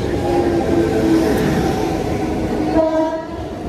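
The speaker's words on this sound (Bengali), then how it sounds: "ফাইনালি আমাদের ট্রেন এখন চলে আসছে, চলে তো এসেছে অলরেডি" A train pulls into a station near Mayapur, its rolling rumble loud and close, with sustained horn tones sounding twice and then a final higher horn blast as it arrives.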